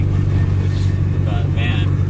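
A restored project car drives along the road, a loud, steady low engine drone with road rumble, while people talk over it.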